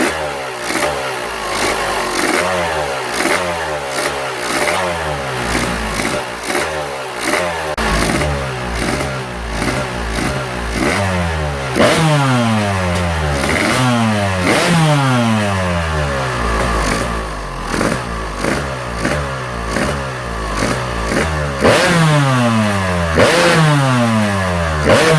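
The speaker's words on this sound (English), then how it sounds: "we're going to rev it out a few times" Yamaha YZ two-stroke dirt bike engine in first gear with the clutch pulled in, revved out repeatedly, loud rising sweeps dropping back over and over across a continuous rattling idle.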